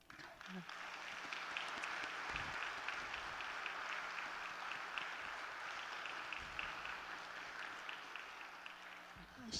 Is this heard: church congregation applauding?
yes